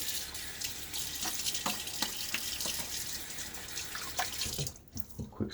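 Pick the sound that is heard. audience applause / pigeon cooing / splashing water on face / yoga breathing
splashing water on face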